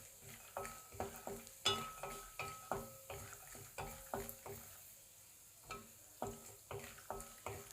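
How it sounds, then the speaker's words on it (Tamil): Cashew nuts frying in oil while a utensil stirs them in the pan, giving quiet repeated scraping clinks over a soft steady sizzle, with a short pause midway and no voices. "இது கூடயே முந்திரி பருப்பு போடுறேன்"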